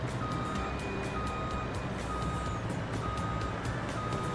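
A truck in Landwirtschafts-Simulator 22 backing up, sounding a steady series of evenly spaced high reversing beeps over a constant engine rumble, close and clear.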